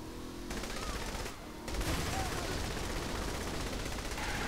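Gunfire in the video game Saints Row: The Third comes as dense, continuous rapid bursts that keep up without a break for the whole stretch.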